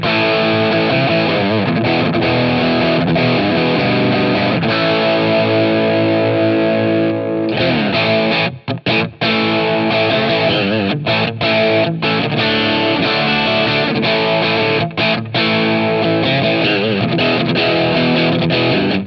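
Distorted electric guitar on a Gibson Les Paul with Vermilion American Dream '61 pickups and coil splitting, a loud continuous riff of chugging chords with brief stops and choked gaps, nobody talking.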